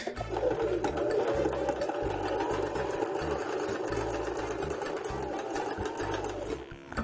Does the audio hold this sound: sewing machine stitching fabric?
yes